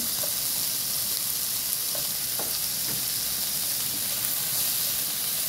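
Garlic sizzles and crackles in hot oil in a pan while cooking chopsuey, a steady close frying hiss with scattered pops throughout.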